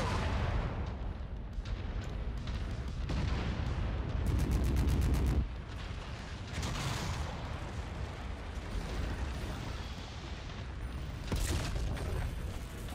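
A destroyed mech exploding in a MechWarrior game, deep rumbling booms and blasts layered over continuous low battlefield noise and mechanical clatter, loud and sustained throughout.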